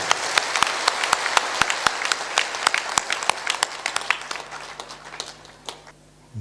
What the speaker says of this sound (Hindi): जोर से बजाओ ताली, एक बार बजा के दिखा दो